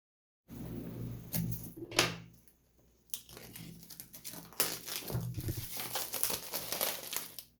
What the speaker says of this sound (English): plastic crinkling sound, the sound of a new game.